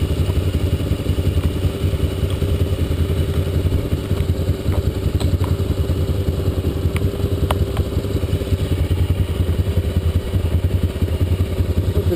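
A steady, loud drone of XR 400 and XR 230 dirt bikes running, with a continuous rumbling, clattering engine note and no pauses, outdoors in Gorman, California.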